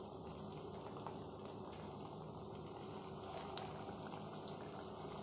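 Raw minced-meat kebabs fry in hot oil in a pan with a constant soft sizzle and bubbling, quiet and close, broken by a couple of faint clicks and no talking.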